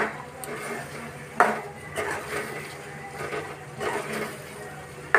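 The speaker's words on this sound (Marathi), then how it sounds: "आता यामध्ये मी ॲड करणार आहे हे चिकनचे पीसेस जे आपण तळले होते, आणि याला आपण मसाल्यामध्ये मिक्स करूया" Fried chicken pieces are stirred into masala in a pan for kala chicken, giving close, uneven clatter and scraping of utensil against metal in bursts, with a faint voice in the background.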